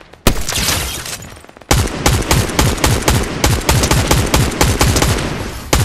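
Rapid bursts of assault rifle and machine-gun fire in the video game Fortnite, loud and close, rattling almost continuously after a short pause near the start.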